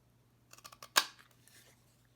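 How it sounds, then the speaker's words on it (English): Scissors cutting through card paper for a corner flip fold card, a single crisp snip preceded by a few light paper rustles, close and quiet with no talking. "And then I'm going to cut it."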